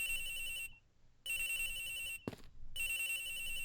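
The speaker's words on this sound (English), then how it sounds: "The ringing's coming from somewhere in here, sir." A telephone rings in the Ace Attorney Investigations video game, sounding as three repeated electronic ring bursts with short gaps between them, fairly faint, with a brief interrupting noise between the second and third rings.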